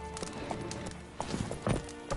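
Horse hooves clip-clopping at a gallop in The Witcher 3 video game, a steady rapid beat with a few louder thuds, accompanied by game music and effects in the background.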